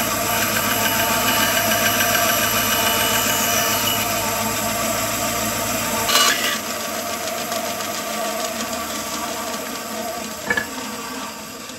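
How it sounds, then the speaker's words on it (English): A bandsaw cuts wood while a part is shaped during restoration of a 1953 Gibson L-50 guitar, giving a steady whirring, buzzing drone whose tone shifts partway through, with a short knock later. "the easiest thing for me to do is actually cut this out with a bandsaw"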